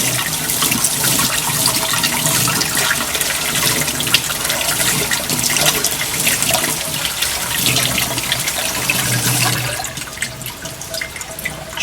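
Water from a tap runs steadily while soya is washed under it in a kitchen sink. The splashing is close and continuous, then eases slightly near the end. No one speaks.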